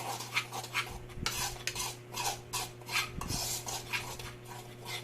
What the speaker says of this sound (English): we'll mix all those dry ingredients together